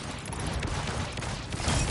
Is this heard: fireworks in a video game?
yes